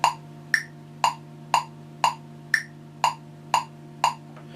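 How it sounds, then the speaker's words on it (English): A metronome clicks a basic four-beat pulse for metal rhythm guitar practice: nine crisp, evenly spaced ticks about half a second apart, with a higher accented click opening each group of four, over a low steady hum. "so the metronome sounds like this usually."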